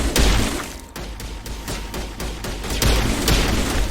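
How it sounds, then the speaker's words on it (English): Rapid gunfire from weapons in Mass Effect Legendary Edition, a dense continuous fusillade of sharp shots and thuds running steadily through the whole stretch, loud and close with no talking. "So here's the shooting."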